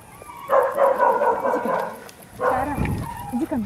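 Dogs bark at an animal shelter in two short, loud bursts of yapping, mixed with a voice in the background.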